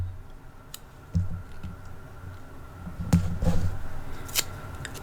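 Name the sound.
scissors cutting paper in half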